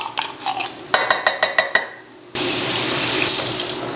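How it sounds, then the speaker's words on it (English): Kitchen tap water runs loudly into a stew pot for beef stew, a strong steady gush starting after a series of sharp clinking knocks and a brief lull. "And then we'll add water."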